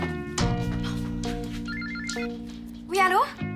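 Telephone bell ringing in repeated electronic trills indoors, loud and close, with a voice shouting over the end of the rings.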